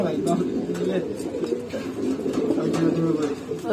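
Fancy pigeons at a breeder's loft coo in low, repeated murmurs, close by and fairly steady, with a person talking over them.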